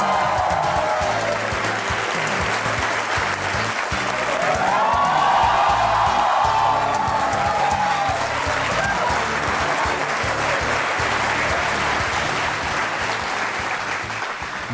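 A studio audience at a television show applauds continuously and loudly for a long stretch, a thick wash of clapping with a faint musical tone rising and falling underneath.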